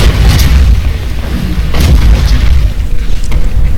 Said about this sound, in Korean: 인력 대포라니 미친